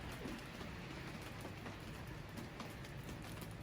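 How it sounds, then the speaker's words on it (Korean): Steady spring rain falls through the morning, a soft, even wash of patter that stays constant and close with no voices present. "아침부터 봄비가 내리고 있습니다."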